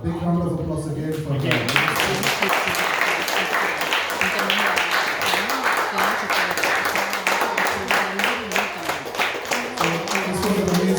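An audience claps after a devotional-service presentation; a voice talks briefly at the start, then dense, steady applause fills the rest, loud and continuous.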